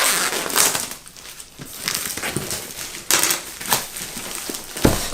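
Samsung Galaxy Book Pro laptop box being unboxed up close, with continuous cardboard and plastic rustling, crinkling and scraping punctuated by a few sharper handling knocks.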